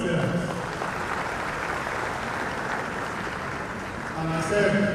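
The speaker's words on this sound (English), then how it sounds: "Please clap for yourselves." At a university gathering, the audience claps for themselves: a diffuse, even wash of applause held at moderate level throughout, mixed with a voice talking over it.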